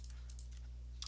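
Keys clatter on a computer keyboard in a few quick bursts of soft clicks over a steady low electrical hum, close to the microphone with no one speaking.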